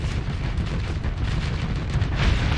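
Torpedoes strike a battleship in the space combat game Starsector, making a dense, continuous roar of blasts and rumbling impacts. It stays loud and unbroken throughout.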